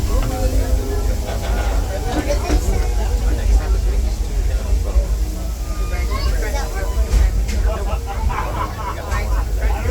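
Disneyland Railroad passenger car riding behind the steam locomotive Ernest S. Marsh, a steady rumbling roll with clatter from the track, heard from on board under a constant hum of chattering riders.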